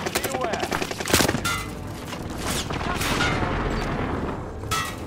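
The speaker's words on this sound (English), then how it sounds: "Allied precision airstrike incoming" Airstrike in a multiplayer shooter video game: a dense barrage of gunfire and explosive blasts rolls on continuously, loud and layered, with players talking over it.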